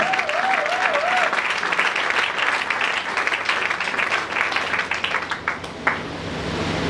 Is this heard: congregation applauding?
yes